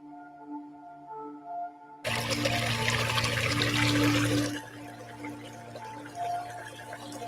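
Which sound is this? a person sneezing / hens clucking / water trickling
water trickling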